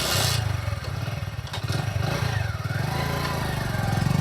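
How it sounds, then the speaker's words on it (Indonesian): A motorcycle that had refused to start, pushed two or three kilometres, is started again, and its engine settles into a steady, close, low putter that runs without pause, with a brief rattle near the start. "dia coba lagi menstarter motornya"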